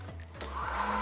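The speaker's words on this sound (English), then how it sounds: "insert the portafilter into the grinder cradle and pull it towards you to engage the grinder" Built-in grinder of a Breville Oracle Touch espresso machine grinding coffee beans into a portafilter, a brief steady whirring hum lasting about a second.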